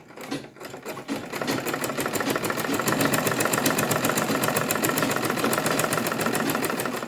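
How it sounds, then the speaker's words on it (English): Sewing machine stitching fabric for a pleated turban, a fast steady mechanical whir with rapid rhythmic needle ticks, close and continuous after a brief start. "take it to your sewing machine like this"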